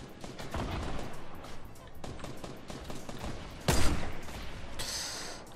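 Gunfire in the Fortnite battle royale game crackles in scattered bursts, with a louder shot near the middle and a sharper blast toward the end, while a player's voice is heard alongside.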